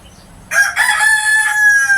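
Gamefowl rooster crowing once up close, a loud, sustained cock-a-doodle-doo lasting over a second after a quiet start.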